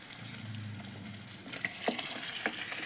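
Fresh river fish frying in hot oil, a steady close sizzle with occasional sharper crackles and pops, no talking.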